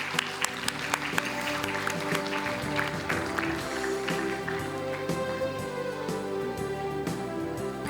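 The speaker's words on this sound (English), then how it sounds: "Audience, may we have a huge round of applause for our achievers." Applause from the audience at a school prize distribution ceremony for award achievers, steady moderate clapping heard throughout with a few sharp individual claps standing out.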